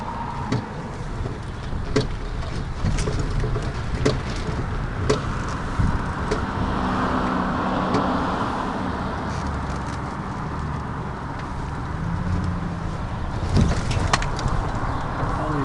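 A ZEV T3 Sport Pickup electric trike with a lighter battery pack drives along a potholed road, a steady broad rumble of tyres and wind with occasional bumps and clatters, and faint bird calls in the background.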